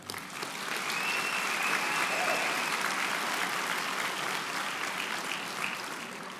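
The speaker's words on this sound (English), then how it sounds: "I think you deserve a round of applause as well." A large convocation crowd at a Humber School of Applied Technology graduation breaks into sustained, even applause for the graduates' supporters, rising quickly and holding steady for several seconds in a big hall.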